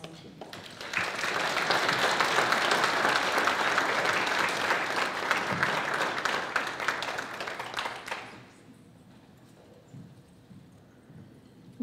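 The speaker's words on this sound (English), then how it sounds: "Let's give a big round of applause." A conference audience breaks into loud, dense applause that swells quickly, holds for about seven seconds, then tapers off and stops, leaving a quiet room with a few faint sounds.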